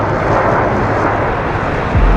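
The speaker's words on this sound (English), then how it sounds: "Our pilots have turned around once again to set up for the most classic of aerobatic manoeuvres. Now, from the right, the loop." A jet aircraft flies an aerobatic loop at an air show, a loud, steady broadband engine roar filling the whole stretch and swelling slightly at the end.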